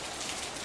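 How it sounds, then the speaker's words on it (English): Steady rain falls outside as an even, broadband hiss of drops on surfaces, fairly faint and continuous, with no voices. "But it's raining outside."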